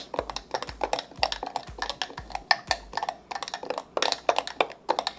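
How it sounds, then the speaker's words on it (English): Chocolate chia pudding with dark chocolate being stirred in a bowl, a steady run of quick, close clicking and tapping strokes of a utensil against the dish, faint and rhythmic, with no talk. "I'm gonna go ahead and mix it all really well and check the sweetness"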